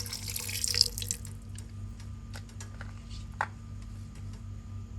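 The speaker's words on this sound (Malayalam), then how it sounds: "ഒരു ലേശം കൂടെ നമുക്ക് വെള്ളം ഒഴിച്ചു കൊടുക്കണം" Water splashes briefly into a cooking pot of Kerala sada-style sambar with vegetables, a short pour near the start followed by quieter drips and faint kitchen clatter over a steady low hum.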